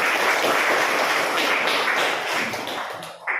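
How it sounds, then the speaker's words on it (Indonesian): Students in a classroom clap together in a loud, dense burst that runs almost the full length, tapering slightly near the end before a final thump. "Tepuk tangan kita semua."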